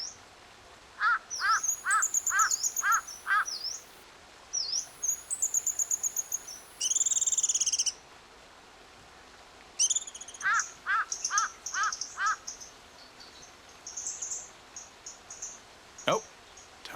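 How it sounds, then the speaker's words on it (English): Birds call at Tai Tong, Hong Kong: crows give repeated runs of harsh caws while other birds chirp and whistle in quick series over a soft outdoor hum. "see if we can identify different types of bird sounds"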